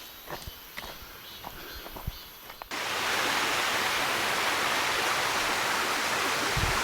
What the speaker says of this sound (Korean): 저 밑에 벌써 물소리가 들리고요.